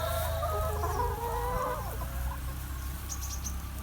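Chickens cluck close by on a clay-soil farm, giving a burst of lively, overlapping clucks and squawks that fades into quieter murmuring over a steady low background hum.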